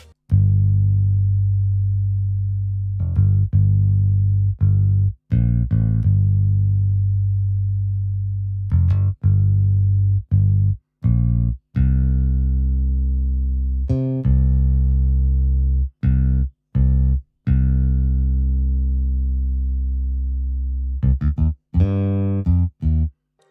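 A warm, sustained bass guitar line with long held notes and occasional brief gaps, played alone in a looping vintage soul groove.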